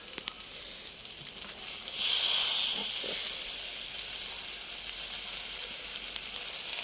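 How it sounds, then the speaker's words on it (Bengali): Washed, drained khasla greens hit a hot frying pan with oil, setting off a sudden loud hissing sizzle that swells and then holds steady, following a few faint clinks. "এবারে হচ্ছে খসলা শাকগুলো তুলে দেব। ধুয়ে নিয়ে এসছি, এই যে জল ঝরে গেছে, দিয়ে দিই।"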